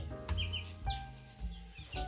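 Chickens, including a rooster and a hen, cluck in short bursts close by in a henhouse, with a low rumble of background noise underneath.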